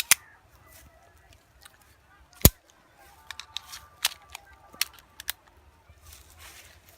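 A TT 30 bore pistol fired or worked by hand, with a few sharp, close cracks and metallic clicks spread unevenly over quiet background noise.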